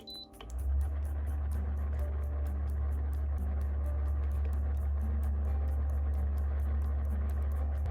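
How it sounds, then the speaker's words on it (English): A MaxKare foot spa massager with its vibration feature switched on starts with a click and settles into a steady, droning low rumble with a faint rapid rattle on top, running continuously without speech. "There's also a vibration feature."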